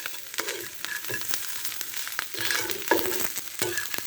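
Carrots, potatoes and other vegetables fry in a pan for a rice or khichuri dish, a soft sizzle punctuated by repeated scraping strokes of a spatula stirring them close by.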